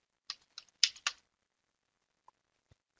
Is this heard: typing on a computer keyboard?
yes